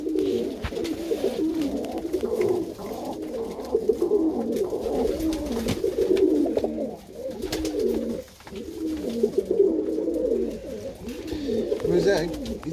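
Nesting ring-necked doves coo in soft, repeated low rolling phrases across the whole stretch, close by and steady, with someone speaking quietly over them in places.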